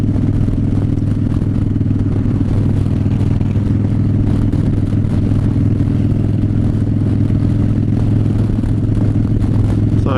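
A Harley-Davidson motorcycle on the road with a steady, loud engine rumble and constant wind noise throughout, no pauses or changes in pace.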